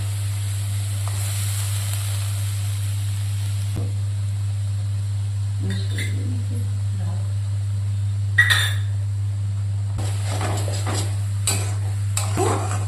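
Cumin and coriander leaves are stirred in a cooking pan, making sparse scrapes and light metallic clinks over a steady low background hum, mostly in the second half.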